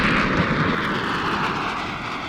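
Airplane landing at the moment of main gear touchdown, with a steady, loud roar of engines and rushing air holding evenly throughout and no distinct impact standing out.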